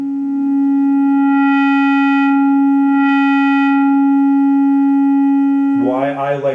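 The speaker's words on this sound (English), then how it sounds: "It's that frequency sweep." A synthesizer plays a steady basic sine wave with a soft swelling sweep twice, holding a constant pitched tone throughout; near the end the pitch bends into a brief warbling sweep. Loud, close, and without talk.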